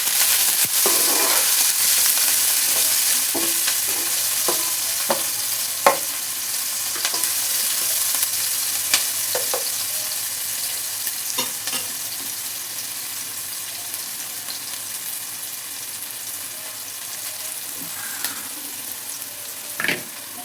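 Chopped onions with salt sizzle loudly in a hot pan for mint rice, a dense, steady hiss broken by repeated soft clinks and scrapes of a spoon stirring. The sound is close and continuous, with no voices.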